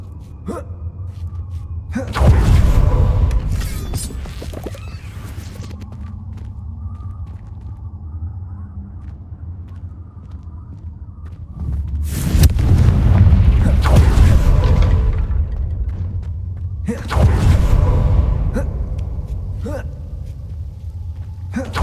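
Blasting curse explosions in the Hogwarts Legacy video game: three loud, booming bursts with rumbling tails, spaced several seconds apart over a low steady background hum, no talking.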